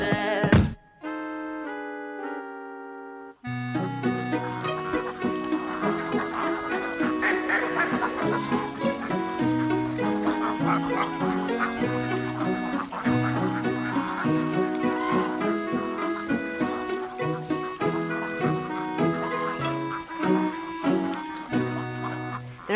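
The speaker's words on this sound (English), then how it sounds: "There are many different kinds of geese." A flock of Sebastopol geese honks continuously, many overlapping loud calls close by, starting after a brief tonal chime.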